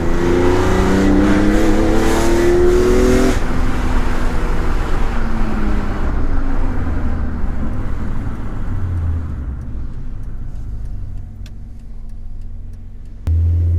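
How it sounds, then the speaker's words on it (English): A 2003 BMW E46 M3 CSL engine revs hard and loud close by, with a gear change partway through, then its roar eases off and fades toward a low idle rumble. "Just give it a bit of a burst."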